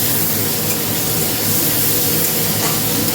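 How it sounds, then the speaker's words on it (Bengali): Chopped prawns spattering in hot frying oil, a loud, constant hissing sizzle that stays close and even throughout, with no talking. "আর এত ছিটায় তেলের মধ্যে"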